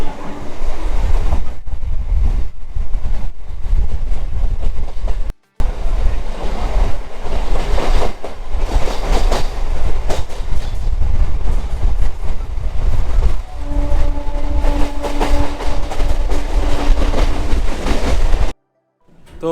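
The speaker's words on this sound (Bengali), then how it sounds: "আর ট্রেন এখন ঢুকছে রানাঘাট জংশনে" A night train rolls into Ranaghat junction: a loud, continuous rumble and clatter of rail cars, with brief dropouts and a steady tonal whine near the end.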